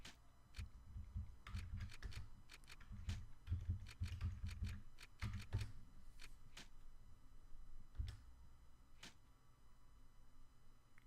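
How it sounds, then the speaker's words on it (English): Rapid computer keyboard key clicks come in irregular bursts while a keyboard-driven video game, OFF, is played, close and fairly quiet with brief pauses between flurries. "you will probably hear a lot of me clicking buttons."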